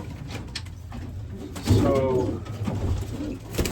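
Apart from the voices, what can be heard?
racing pigeons cooing in loft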